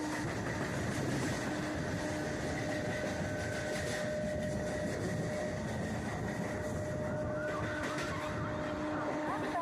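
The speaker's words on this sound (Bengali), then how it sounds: "আর আমরা ট্রেন স্কিপ করছে এখন টিটাকার রেলওয়ে স্টেশন" A fast Barrackpore local train on the Kolkata suburban line runs through Titagarh station without stopping, heard aboard as a loud, steady rumble with rhythmic rail clatter and a faint high whine.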